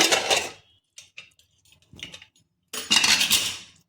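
A metal lid lifted off a pressure-cooker pot of mutton stew after it has stopped whistling, giving a few clattering clinks and scrapes in bursts with short quiet gaps between them, close and moderately loud, with no talking.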